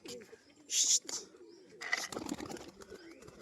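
Soft, low cooing of a female Rajshahi pigeon repeats in the background, broken by a loud burst of flapping wings and some rustling, all fairly quiet.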